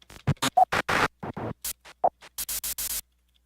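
Noise cassette texture sample: short bursts of broadband hiss and scratchy static, about a dozen choppy on-off fragments of varying length with silent gaps between them.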